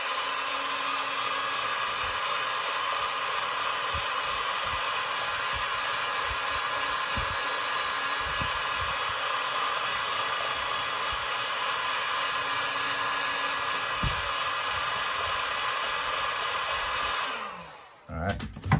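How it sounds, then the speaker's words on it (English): Heat gun blowing hot air onto the end of a tube, a steady loud whooshing roar with a faint whine, running continuously before cutting off near the end, with occasional small clicks and handling bumps. "So I've got my heat gun. You want to go ahead and heat the end of your tube."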